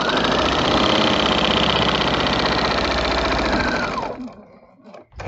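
A sewing machine stitching a quilting line across a quilt: a loud, fast, steady mechanical whir for about four seconds that slows and stops, followed by brief handling noise.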